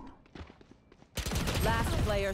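Valorant gunfire: a string of quieter, quick shots crackles at first, then a much louder, dense stretch of game sound and a voice take over.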